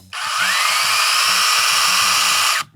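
A StartPro SBS 21 B cordless mini chainsaw with a soft start spins up: a loud, close, high-pitched electric motor whine that ramps up quickly, holds steady for over two seconds, then cuts off abruptly.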